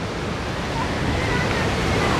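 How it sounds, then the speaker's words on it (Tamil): Sea waves wash against a rocky Sri Lankan coast with a broad, continuous roar that swells slightly louder toward the end. "சரியா கடல்லாம் வந்து அரிச்சு நிலத்தை கொண்டு போகுது."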